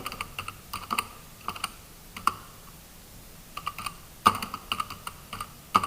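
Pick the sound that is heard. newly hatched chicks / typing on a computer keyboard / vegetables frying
typing on a computer keyboard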